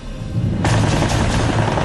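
Machine gun fire from a bomber's rear gunner in aerial combat: after a brief lead-in of engine drone, a loud, dense burst of rapid shots begins and runs without a break to the end.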